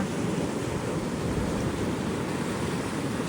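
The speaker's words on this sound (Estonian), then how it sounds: "No vaadake neid laineid seal tagana." Ocean surf rolls onto the coast near Brisbane and the Sunshine Coast in Australia, a steady, loud, close roar of breaking waves mixed with gusting wind across the microphone, with no voices.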